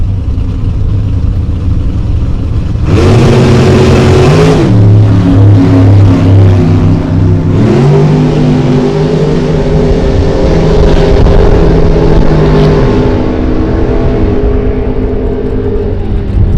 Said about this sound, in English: 27 Don Davis Roadster. 565 cubic inch big block Ford for power